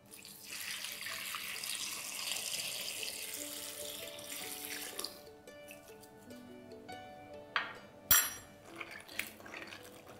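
Water runs from a kitchen tap into a sink while cut cauliflower soaks in salt water, a steady rushing flow that stops partway, followed by a few light clinks and splashes.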